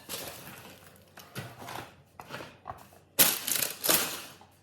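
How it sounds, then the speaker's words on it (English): Baking paper crackles and crinkles as it is peeled from the base of a browned, freshly baked sourdough bowl loaf, coming in several close bursts with short pauses, the loudest near the end. "Take the paper off."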